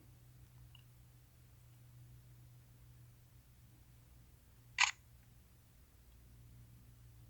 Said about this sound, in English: Or you could go to a shutter tone.